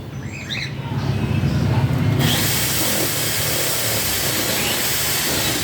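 A power drill drives screws into an aluminum cabinet: a low mechanical rumble builds, then a loud, steady broadband whir holds close up for several seconds.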